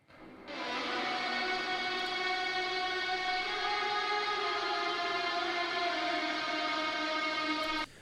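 Pad-like ambient guitar for a modern metal track, a single smooth chord swelling in and holding steady for about seven seconds before cutting off, with no voices.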